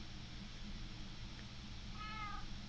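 A faint, brief cat meow with a wavering, rising-and-falling tone rings out near the end over a low, steady background hum, with no speech.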